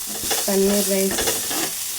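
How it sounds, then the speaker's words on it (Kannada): Sweet corn kernels fry and crackle in hot butter in a pan for paneer fried rice, a close sizzle with brief stirring scrapes and a short tonal clink in the middle. "ಬಟರ್ ಹಿಂಗೆ ಚಟ್ಪಟ ಅಂತಿರುವಾಗಲೂ ಸ್ವೀಟ್ ಕಾರ್ನ್ ಹಾಕೊಳ್ಳಿ"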